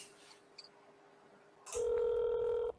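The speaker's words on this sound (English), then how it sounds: "I think we made a phone call." Telephone dialing for a phone call: a short, loud steady tone holds for about a second, following a few faint earlier beeps over a quiet background hum.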